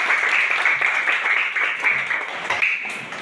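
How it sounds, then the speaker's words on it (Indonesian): Children in a classroom clap together after a prayer, a bright, continuous patter of many small hands that fades slightly at the close. "mari kita berikan tepuk tangan."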